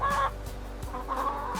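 Chickens cluck in short bursts over low steady farm background noise while ranging on loose soil on a forested hillside, with a few separate calls spaced across the moment.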